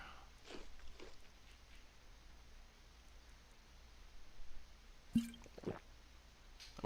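A video-game character eats saber cat meat: a few soft, wet squelching bites, quiet and spaced out, with a pair of louder squishy chomps near the end over a faint background hum.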